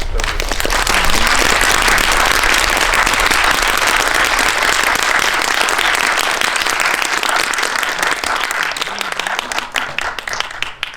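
Cinema audience at a film screening event applauds loudly as the director and actors walk in, a dense, steady burst of clapping lasting about eleven seconds.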